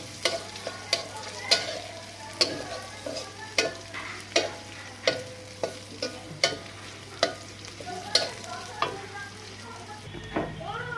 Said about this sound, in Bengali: পাতাকপি তেলের উপর দেবো, তাই গোটা জিরে পেঁয়াজ রসুন ভেজে নিচ্ছি।